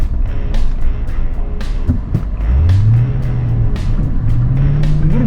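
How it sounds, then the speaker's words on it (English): A car on Yokohama Geolandar tires, in two-wheel drive on snow, spins its wheels and then accelerates with a steadily rising engine note that is loud and close, with no talk. "A little bit of spin, but it seems to dig in and get traction and accelerates."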